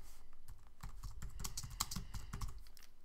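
Quick, light typing on a computer keyboard while renaming a filter in project-tracking software, a soft irregular patter of keystrokes close by.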